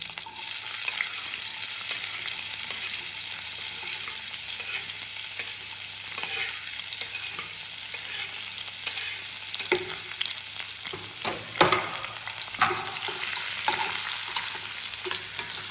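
Green chillies and onions sizzle steadily in hot oil in a frying pan, a constant bright crackle with occasional louder pops and stirring scrapes near the end.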